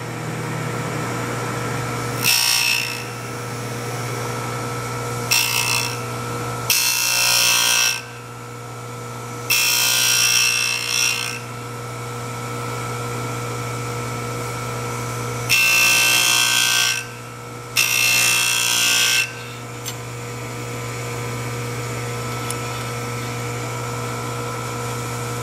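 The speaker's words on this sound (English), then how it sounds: "That's one nice thing about the diamond grinders is you can go either way, right?" A diamond grinder grinds in several loud bursts of a few seconds each, pausing and restarting over a steady background hum.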